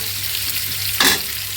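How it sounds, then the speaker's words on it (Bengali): Vegetables sautéing in a pan with spices, potato, bitter gourd and tomato give a steady close sizzle, with a brief louder hiss of stirring about a second in. "এখানে তো আমি মশলার সাথে আলু আর করলা টমেটো দিয়ে আবার সবজি কষিয়ে নিচ্ছি।"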